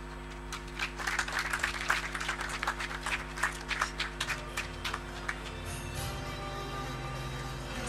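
An audience applauds health management students at an oath ceremony of the Faculty of Health Sciences, a soft burst of scattered clapping that lasts several seconds and then fades into a quiet hall.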